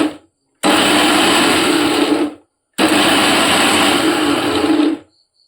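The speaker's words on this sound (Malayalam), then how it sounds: "നമ്മളിത് മിക്സിയിലിട്ടിട്ട് നന്നായി ക്രഷ് ചെയ്തെടുത്ത് കൊണ്ടുവരും" A kitchen mixer grinder crushes a handful of garlic cloves for beetroot pickle in two loud whirring pulses of about two seconds each, separated by a short silence.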